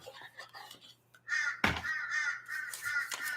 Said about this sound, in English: Can you hear the birds singing this morning?